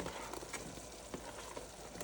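Zucchini and green beans are stirred into a pot of vegetable soup, with a soft steady sizzle-like hiss and a few faint scraping knocks, quiet and without talk.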